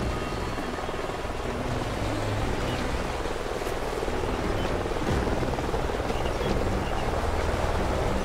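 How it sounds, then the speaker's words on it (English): A helicopter in a Call of Duty game, flying nearby over canyons, gives a steady, loud rotor drone that fills the whole stretch evenly with no break. "Sounds like a chopper's up ahead of us."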